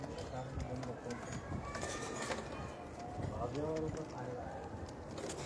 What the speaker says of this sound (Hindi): ये रामपुरी कबूतर है